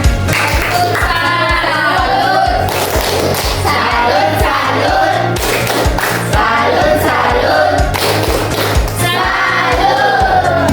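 A classroom full of people claps and cheers, steady applause with yells and whoops rising and falling throughout.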